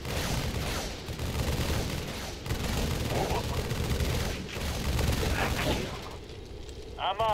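Sustained gunfire and explosions from a Halo Wars battle retaking Alpha Base, dense and loud with overlapping shots and booms throughout, briefly dipping and closing with a rising whine.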